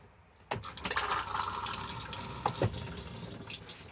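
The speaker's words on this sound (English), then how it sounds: "Push to flush just here." A Thetford cassette toilet in a 2021 Benimar Tessoro T463 caravan is flushed, and a steady rush of water runs into the bowl close by for several seconds, with no talk over it.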